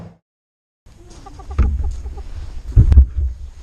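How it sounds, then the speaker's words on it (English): A chicken clucks in short bursts near the microphone during a South American motorbike trip, with thumps and handling noise building underneath toward the end. "I don't know what this chicken wants."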